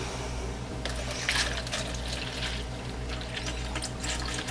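Distilled water being poured into a container while making cold process soap, a steady close trickling and splashing stream under a low background hum, with no talking.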